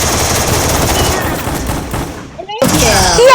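Gunfire in the Free Fire mobile battle game, a dense rattling burst of automatic shots followed by a brief gap and renewed loud game effects, with a voice talking over it.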